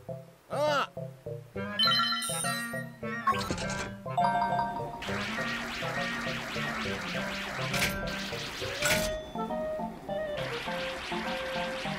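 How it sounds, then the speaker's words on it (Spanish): A telephone rings in the Zelda: Link's Awakening game on Nintendo Switch, a bright electronic melodic ring that repeats in bursts for several seconds, alone and fairly clear. "Hay que llamarle por teléfono."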